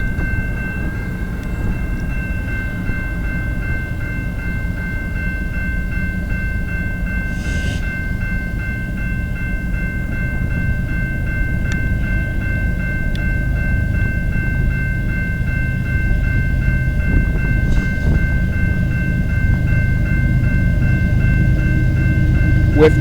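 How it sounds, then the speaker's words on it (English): A CN eastbound intermodal freight train passes close by with a steady, heavy rumble and wheel noise. A sustained horn-like tone and occasional clanks ride over it throughout. "we got a CN eastbound intermodal train coming down the line"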